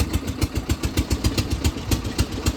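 A tractor engine chugs steadily at idle, a loud, close, evenly pulsing diesel thrum with no voices over it.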